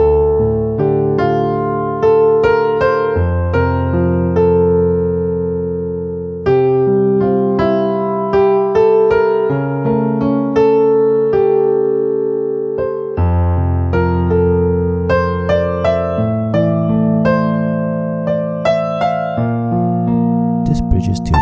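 A 1980s-style piano passage played with both hands, bass chords held beneath a busy right-hand melody, continuous and moderately loud throughout with a short pause near the middle.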